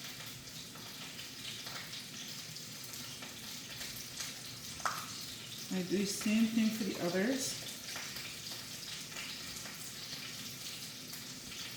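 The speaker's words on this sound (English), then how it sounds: "Our meat is sizzling over there." Steak sizzles steadily in a hot pan with butter, with a brief burst of louder frying midway while a person speaks over it.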